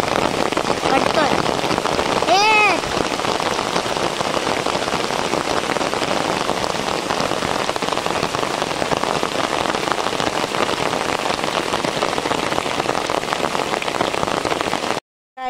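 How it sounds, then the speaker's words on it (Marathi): Heavy monsoon rain pours down in the Konkan countryside, a dense, loud, unbroken hiss of drops hitting surfaces, with a brief whistling tone early on and a voice faintly under the downpour. "आणि जोरात पाऊस पडलाय."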